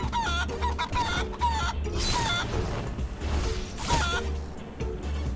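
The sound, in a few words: chicken clucking in the video game Guacamelee! 2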